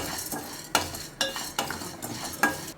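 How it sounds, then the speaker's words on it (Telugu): Cucumber seeds dry-roasting in a pan for dry fruit laddu, with a spoon scraping and stirring in several sharp bursts over a soft rustling background, close and moderately loud with no talk. "ఇప్పుడు కుకుంబర్ సీడ్స్ వేయించుకుందాం"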